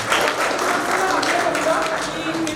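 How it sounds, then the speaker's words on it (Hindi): An audience at a tenth-anniversary celebration claps for an award recipient, a dense, steady wash of applause lasting throughout, with a voice speaking over it. "तो एक बार जोरदार तालियां बजाएंगे।"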